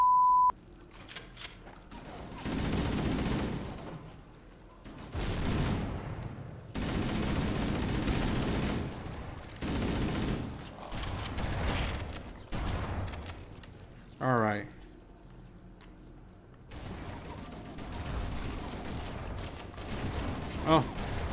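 Shotgun and other gunfire in the Halo: Combat Evolved video game, scattered blasts and bursts heard amid game sounds with someone talking over much of it.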